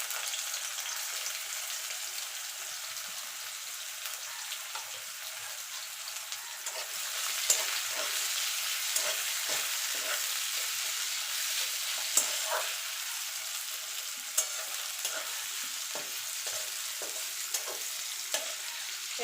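Two chopped medium onions frying in hot oil in a pan, a steady close sizzle with occasional louder pops and spatters, continuing without talk.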